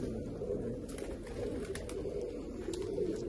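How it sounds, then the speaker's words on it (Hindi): Pigeons coo in a low, steady, continuous murmur, close and fairly loud, with scattered faint clicks and rustles over the top. "बड़े स्लो पर से उड़ने वाले, बड़े मीठी परवाज वाले कबूतर हैं ये"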